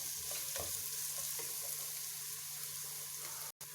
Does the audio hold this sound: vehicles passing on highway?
no